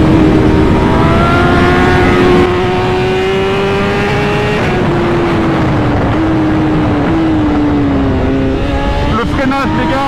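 A tuned 2023 BMW S1000RR sportbike with about 240 hp accelerating hard, its engine note climbing steadily through the gears with brief dips at each shift, loud and close under continuous wind roar, with a voice talking over it.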